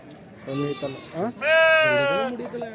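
Large-size sheep bleating at the Kadiri livestock market, with a few short bleats followed by one long, loud, close bleat, under and between talk.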